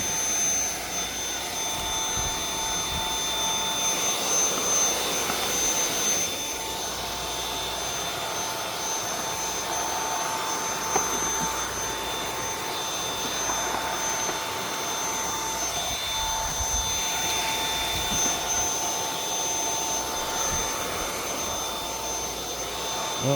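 A refurbished Bissell PowerForce Turbo 6585 upright vacuum cleaner runs continuously while vacuuming a living room, giving a loud, steady motor whine with airy roar and small shifts as it is pushed back and forth.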